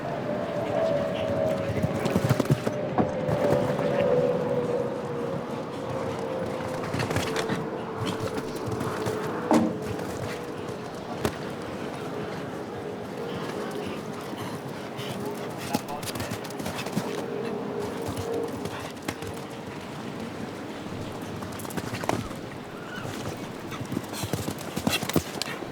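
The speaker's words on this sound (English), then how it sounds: "Joy is an 11-year-old Belgium warm blood horse." Hooves of an eleven-year-old Belgian warmblood thud in a steady canter during a show jumping round at Spruce Meadows, heard under continuous commentary and arena noise.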